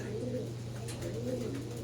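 Pigeons coo softly in repeated low, rolling calls over a steady background hum.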